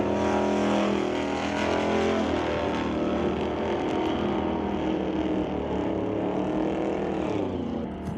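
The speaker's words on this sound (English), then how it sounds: "Pretty even race off the starting line here." Two drag race cars launch side by side off the starting line at a Lordco-versus-TCS lane bracket race, a loud, continuous engine roar that holds steady for several seconds with no talk over it.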